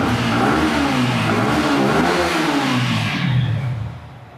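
A used motorbike engine revs loudly and steadily at close range, its throaty mid-pitched note rising and falling before easing off near the end.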